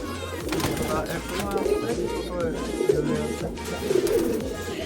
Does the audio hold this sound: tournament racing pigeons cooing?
yes